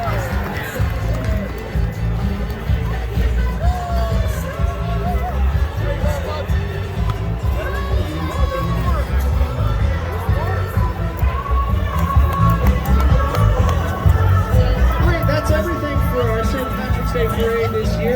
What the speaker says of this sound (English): let's have a nice round of applause for them